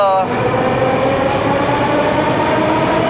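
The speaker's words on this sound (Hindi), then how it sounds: "बहुत आवाज़ करती है भाई, बहुत आवाज़ करती है यहाँ की मेट्रो" Moscow metro train running loudly, a dense steady roar of wheels and carriage noise with a high whine, continuous and close throughout.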